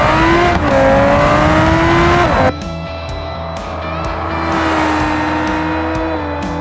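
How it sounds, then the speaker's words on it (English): A Gavril GD808 race car accelerates hard down a drag strip in the BeamNG racing game, its engine note climbing loud and steady, then a gear change drops the pitch before it climbs again, with sharp shift clicks. "I want to take you to the drag strip to show you just how quickly this car goes."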